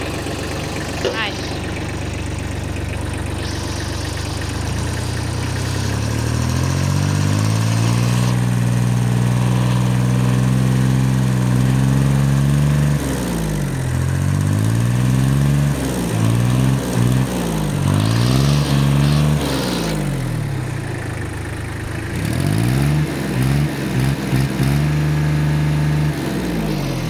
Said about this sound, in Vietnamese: Rồi nổ máy lên cho các bác nghe tiếng máy của nó nha các bác.